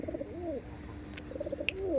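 Kaldum pigeons coo in repeated rolling phrases, fairly close, with a pause midway and a brief sharp click between the bouts.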